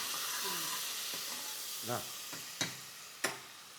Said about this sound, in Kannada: ಇದಕ್ಕೆ ಸ್ವಲ್ಪ ಕೊತ್ತಂಬರಿ, ಇದನ್ನೆಲ್ಲ ಈ ಥರ ಬಾಡಿಸ್ಕೊಬಿಡ್ತೀವಿ